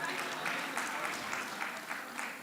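Applause from an audience at an event on preventing violence against women and girls, a steady, moderately loud clapping from a crowd that may carry some faint voices mixed in.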